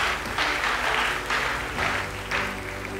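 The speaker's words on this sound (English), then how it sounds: "another round of applause for our awardees," Audience applause honoring awardees at a literary endowment awards ceremony, a broad steady wash of many hands clapping in surging waves, full and close throughout with no talk over it.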